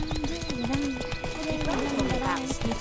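Roach the horse gallops in The Witcher 3, a steady run of hoof clip-clops close up with a brief whinny, under a man's spoken dialogue.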